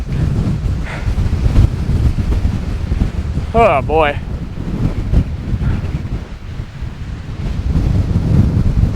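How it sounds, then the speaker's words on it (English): Strong wind on a hilltop in Parc de Harold Baldwin near Coaticook, Quebec, buffets the microphone in a loud continuous low roar with gusting surges, while a man briefly exclaims over it midway. "It's really freaking windy."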